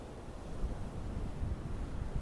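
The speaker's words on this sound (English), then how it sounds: "very windy though, and the wind is chilly" Chilly wind blowing steadily on a sunny afternoon at Ventnor on the Isle of Wight, a continuous low rumbling buffet against the microphone with no voices.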